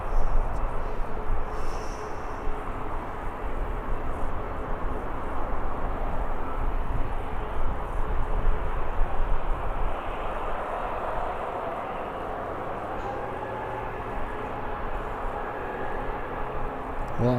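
Widebody Dreamliner jet at Birmingham Airport, its engines producing a steady, loud broadband roar that holds throughout and eases slightly toward the end.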